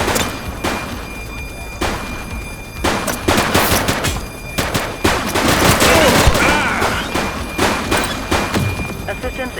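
Rapid bursts of gunfire in the police video game The Precinct, repeated volleys and sharp shots spread across the stretch, loud and close, mixed with game voices and shouting.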